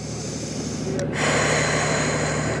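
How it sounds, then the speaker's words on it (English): Long, deep breaths during a Pilates mat workout sound as a steady, loud rush of air. It runs close and continuous over a constant background hum, with a brief catch partway through. "Long, deep breathing."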